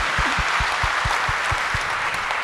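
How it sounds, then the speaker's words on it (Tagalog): A church congregation breaks into loud applause during a Filipino sermon, with a steady roar of clapping and a few distinct low thumps scattered through it. "Isang malakas na palakpak para sa ating Panginoon."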